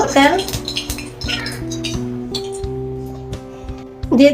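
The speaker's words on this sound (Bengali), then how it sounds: "কড়াই বসানো আছে, তেল দিয়ে দিব।" A kadai (wok) is set on the stove and oil goes in for potato and dried hilsa curry, with clanking metal knocks and scrapes over a faint steady hum, louder bursts at the start and end.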